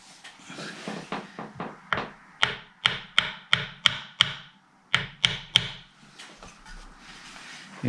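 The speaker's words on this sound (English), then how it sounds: "going to try and get this nut out" Sharp wooden tapping on the nut of a 1962 Fender Stratocaster guitar neck being knocked out, a run of about fifteen close, evenly spaced knocks that grow louder, then a short pause and three more taps.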